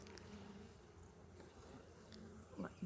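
Honey bees buzz around an open hive, a faint steady hum with a few closer passes near the end.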